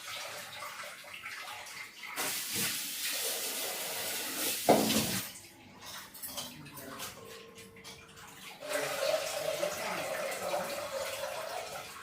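Water splashes and runs in a kitchen sink as toor dal is rinsed, with bursts of pouring and swishing rising and falling over about twelve seconds, close and moderately loud.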